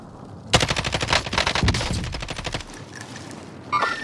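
Warzone gunfire: a loud, rapid automatic burst of closely spaced shots for about two seconds, then a quieter tail with a final short shot.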